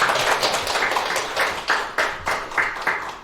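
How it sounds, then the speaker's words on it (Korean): Audience applause at a Korean presidential pre-candidate debate hosted by a journalists' association: a dense wash of clapping that thins into a few sharper, separate claps toward the end, with no voices. "박수 한번 주시겠습니다."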